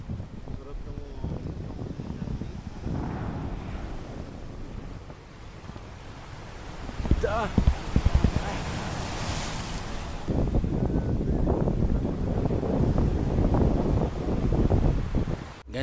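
Sea waves and wind roll in at a Zambales beach camp at night, a steady rushing surf with gusts buffeting the microphone and a louder swell near the middle, while people talk quietly nearby.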